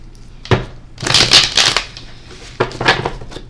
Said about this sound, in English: we're going to shuffle the cards 3 times in a row